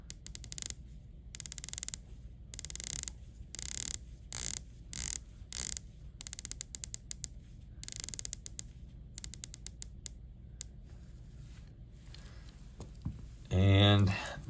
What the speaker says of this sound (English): here is the Superocean that I always comment I enjoy hearing. And again, we have 120 click bezel on the Superocean